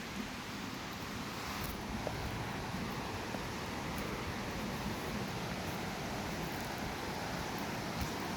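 A creek beside a river trail in a stormy, tree-strewn forest flows as a steady, broad rushing wash, faint and continuous with no voices.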